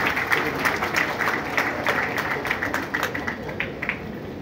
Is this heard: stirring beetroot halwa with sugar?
no